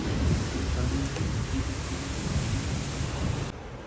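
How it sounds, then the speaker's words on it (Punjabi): Rain falls on a residential street as a dense, even hiss that holds loud and unbroken for several seconds, then drops suddenly to a softer level near the end. "ਬਾਰਿਸ਼ ਸ਼ੁਰੂ ਹੋ ਗਈ ਆ"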